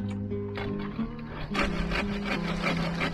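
Rough sawing of coconut wood, a steady back-and-forth rasp building after a short pause, with a low machine hum underneath.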